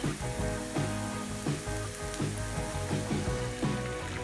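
Carrots and onions sizzle steadily in a pan, a close, continuous frying hiss with a faint rhythmic scraping underneath, for an olive oil artichoke dish; no one speaks.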